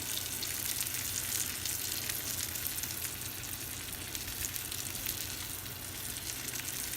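Ribeye steak sizzling over a hot grill during a reverse sear, a loud, constant crackling hiss with fine popping that holds even throughout, no voices.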